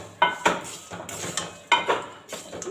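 A spoon stirs a tempering of curry leaves, peanuts and mustard seeds into cooked semolina in a pot, with sharp metallic clinks and scrapes in uneven bursts, close and moderately loud.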